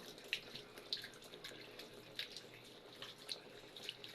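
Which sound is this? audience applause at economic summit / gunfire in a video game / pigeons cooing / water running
water running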